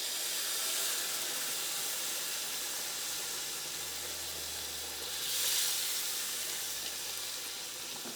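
Water poured into sizzling Chettinad egg curry masala in a hot pan, a soft continuous hiss and sizzle with a brief louder burst of steam midway.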